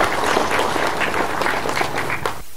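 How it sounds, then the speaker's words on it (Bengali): Sustained, dense applause from an audience at a live public stage event, steady and close for the whole stretch before dropping off abruptly at the end. "তো স্যারের লাগে একটা হাততালি দিবা প্লিজ।"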